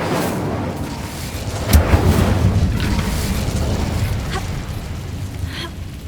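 An Incendio fire spell in Hogwarts Legacy goes off with a muffled burst, followed by a rushing, crackling roar of flame that holds steady and loud.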